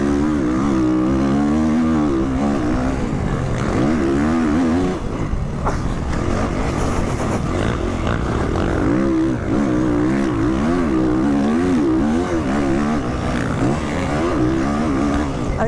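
Quad ATV engines racing in the MX vs ATV video game, a constant buzzing whine that rises and falls with throttle and runs without a break.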